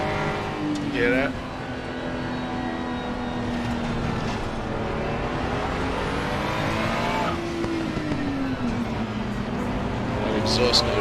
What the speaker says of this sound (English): That exhaust note is so beautiful.